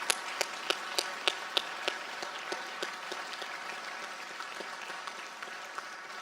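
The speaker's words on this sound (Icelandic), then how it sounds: "Ef ekki að klappa einu sinni enn fyrir öllum þessi glæsilega." A school graduation audience claps together, with crisp distinct claps early that soften into a thinner, fading patter of applause, heard at moderate distance in a hall.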